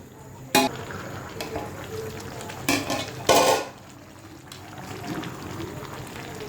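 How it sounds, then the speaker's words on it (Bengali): Jackfruit and beef curry stirred in a pot: a few sharp spoon clanks against the metal and short bursts of scraping over a low simmering bubble, close and without talk. "ভালো করে নাড়াচাড়া করতে হবে একটু পর পর, যেন কাঁঠালটা সুন্দর সিদ্ধ হয়"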